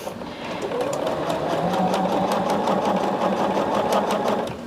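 A sewing machine stitches binding onto a quilt, running in a fast steady whir of needle strokes, close and continuous for several seconds before slowing slightly at the end.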